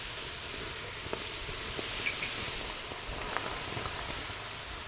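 Chicken drumsticks and veal liver sizzle over a hot outdoor grill fire, a steady close hiss with occasional small pops and no talking.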